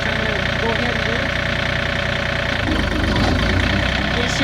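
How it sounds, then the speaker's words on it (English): A John Deere 3025E compact tractor runs with its PTO engaged, a steady mid-to-low engine drone that grows fuller and rougher about halfway through, heard up close and continuous. "when you turn the PTO on this tractor, which I'm going to go ahead and do,"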